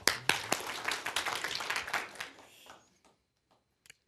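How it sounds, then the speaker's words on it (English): An audience in a room claps hands together on the count of three, a loud burst of many hands that holds for about two seconds, then thins out and fades to near silence, with a few stray claps afterward. "clap your hands as loud as you can on the count of three"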